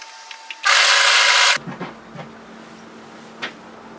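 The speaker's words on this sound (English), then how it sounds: "And now we're sewing down to that pocket area." A sewing machine stitching a long-line pleated hoodie runs in one loud, close burst of about a second, then stops, followed by faint handling sounds.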